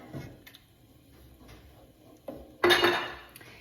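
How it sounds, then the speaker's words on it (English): Spoon clinking and scraping against a pot while jarred Classico tomato sauce is stirred in, a few light taps then a louder clattering burst near the end, close by and with no talking. "I'm gonna put in this first jar, and I'm gonna mix it all up"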